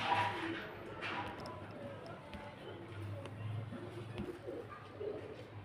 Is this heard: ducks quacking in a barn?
no